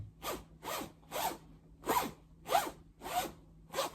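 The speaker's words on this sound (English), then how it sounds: "Shall I zip this up a little bit?" A clothing zipper is zipped repeatedly, seven quick rasping strokes in a steady rhythm, close and clear with no talking.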